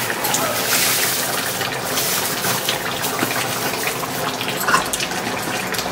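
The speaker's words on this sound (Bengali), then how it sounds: "টকবক করে ফুটছে, দেখতেই পাচ্ছেন।" Deshi chicken curry boils in a pot, giving a steady, close bubbling and hissing simmer that continues evenly throughout.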